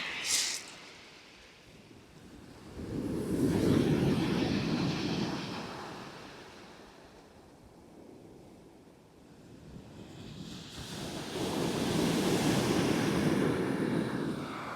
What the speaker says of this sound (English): Let's just have a listen to the old sea.